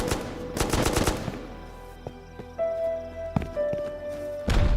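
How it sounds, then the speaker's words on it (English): Gunfire in the video game Rust: a burst of rapid automatic shots opens loud and close, then fades to a quieter stretch broken by a few scattered single cracks and thuds. "Gunfire chases them, along with the distant sounds of explosions"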